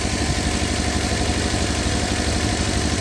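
A 1963 Volvo Amazon wagon engine idling high, a steady loud and close mechanical drone with a fast, even pulse and no pauses or talking.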